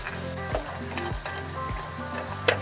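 Clams drop into a hot pan already holding sweet chili sauce and sizzle steadily close by, with light stirring clinks and a sharp click near the end.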